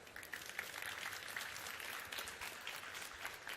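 Faint applause from a crowd at an AI startup pitch event, a steady patter of many hands clapping at a distance, quiet but continuous throughout.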